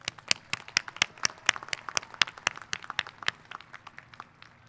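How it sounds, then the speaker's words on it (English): Hand clapping from a graduating class's commencement crowd, a quick, uneven run of sharp claps rising and falling over a few seconds, fairly close and heard without talk. "a round of applause for the class of 2017"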